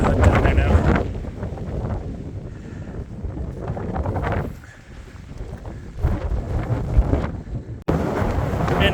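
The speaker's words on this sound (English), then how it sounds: "And the wind is crazy." Strong wind roars and buffets the microphone on a ridge in the White Mountains, loud and continuous with gusty surges and brief lulls.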